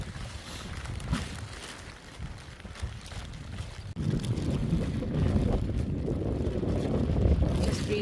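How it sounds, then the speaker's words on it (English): Wind on the rim of the volcanic crater at Mt Aso in Japan, a steady rushing buffet against the microphone that turns heavier and louder halfway through, with no voices. "Oh, wow, it's windy."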